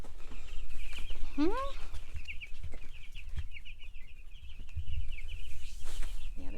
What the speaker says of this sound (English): See all the baby chicks and how they're growing and changing.